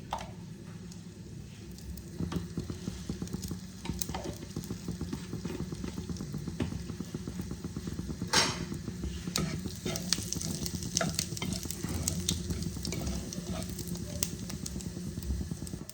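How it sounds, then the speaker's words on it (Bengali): Whole cumin seeds sizzle and crackle steadily in hot ghee for a dish of dhaba-style palak paneer, a continuous close frying hiss with occasional stirring clicks. "এবার আমি ঘিয়ের মধ্যে 1/2 চামচ পরিমাণ গোটা জিরে আমি দিয়ে দিচ্ছি।"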